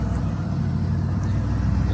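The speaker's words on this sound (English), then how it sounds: "You hear that idle kind of surge? These trucks are kicky, very finicky." A 1990 Ford F150 XLT Lariat 4x4 truck engine idles with a surging idle, a steady low rumble heard close and continuously without talk.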